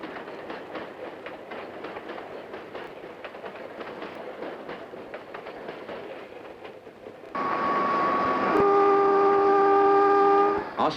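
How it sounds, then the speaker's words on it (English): A fast interurban double-deck air-conditioned passenger train in Australia rumbles along with steady rail clatter, then a loud, sustained horn blast sounds near the end. "Fast, interurban, double-deck, air-conditioned trains are meeting this need."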